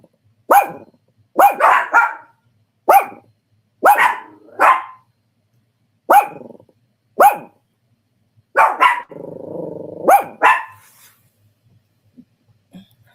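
A dog barks close and loud in short bursts, single and doubled woofs spaced a second or two apart, with a brief growling, breathy stretch in between before the barking fades out.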